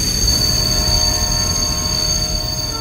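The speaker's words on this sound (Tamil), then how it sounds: "திண்டல் ரயில் நிலையத்தில் அந்த பேசஞ்சர் ரயில் நின்றபோது நடுப்பகல் 12 மணி." A passenger train halting at a small Tamil Nadu station at midday, with steady rolling rumble, a continuous high wheel squeal and a metallic hum, loud and close throughout with no talk.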